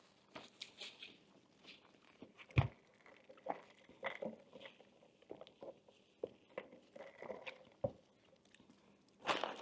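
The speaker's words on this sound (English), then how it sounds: "these fries are nice and round and crunchy" Crunchy Burger King fries being bitten and chewed close up, with irregular crisp crunches and soft mouth sounds spread across the stretch and a few sharper bites standing out, no talking.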